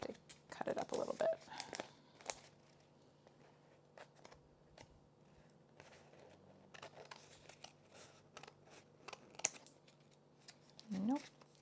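Scissors cut up a piece of scrapbook paper in a handful of crisp, close snips, with light paper rustling in between against a quiet background.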